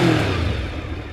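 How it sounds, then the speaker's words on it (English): A 1989 Honda VFR750F motorcycle engine revs briefly up close, a loud, smooth mid-pitched blip that quickly settles back toward idle. "Listen to that engine. I mean, I'm hardly touching that throttle, and everything feels so revvy."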